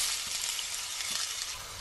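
Ginger garlic paste with mustard seeds fries in hot oil for a garlic pickle, giving a steady, soft hiss and crackle that stays even throughout, fairly quiet and with no talking.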